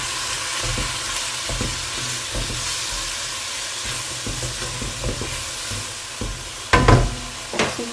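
Pork cubes fry in a pan with a steady close sizzle, broken by repeated stirring scrapes and a louder burst of spattering near the end, with no voices.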